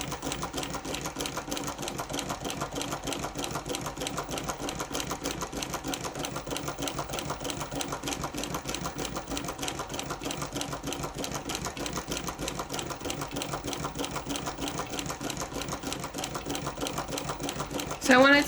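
A Cornely chain stitch embroidery machine stitching letters runs in a fast, even mechanical patter, with a voice talking over the machine throughout.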